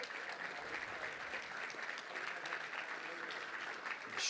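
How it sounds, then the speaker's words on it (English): Luncheon audience at a Little Rock touchdown club giving a guest a round of applause, a steady, fairly quiet wash of many hands clapping from across the room. "Let's give her a round of applause."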